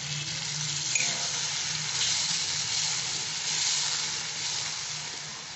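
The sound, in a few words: water added to a hot pan sizzling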